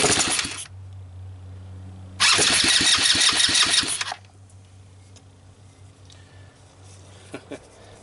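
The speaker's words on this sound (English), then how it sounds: "It should just be a matter of giving this thing a little gas and hope it starts." A Hammerhead off-road go-kart engine on the bench cranks and catches in a loud roaring burst lasting about two seconds, then drops back to a quiet low hum with a few small knocks.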